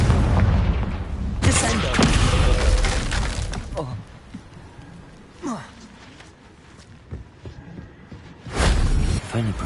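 Confringo blasting spell from Hogwarts Legacy going off as a series of loud, broadband explosive bursts with shattering crackle, strongest near the start and again at the end, quieter rumbling and debris in between; a voice speaks briefly.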